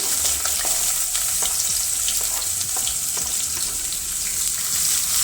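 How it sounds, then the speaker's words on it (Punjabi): Onions frying in hot oil with cumin and asafoetida for a radish and potato curry: a steady, loud, close sizzle and crackle with occasional stirring clicks, no voices. "ਪਿਆਜ਼ਾਂ ਨੂੰ ਆਪਾਂ ਤੇਲ ਦੇ ਵਿੱਚ ਮਿਕਸ ਕਰ ਦੇਵਾਂਗੇ 2 ਮਿੰਟ ਆਪਾਂ ਪਿਆਜ਼ਾਂ ਨੂੰ ਭੁੰਨ ਲਵਾਂਗੇ"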